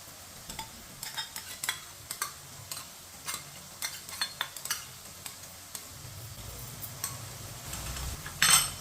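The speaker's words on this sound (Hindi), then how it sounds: "केचप को भी अच्छी तरह मिक्स कर लेंगे।" A spoon stirs ketchup into vermicelli cooked with vegetables and spices in a pan, giving soft irregular scraping taps against a quiet sizzle, with a louder clatter near the end.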